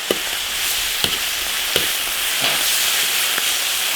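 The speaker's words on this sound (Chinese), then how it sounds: "炒了，炒香了，下毛肚。" Beef tripe sizzles loudly in a hot iron wok with green Sichuan peppercorns, a continuous bright hiss broken by a few sharp clacks of the spatula stirring, with no talk.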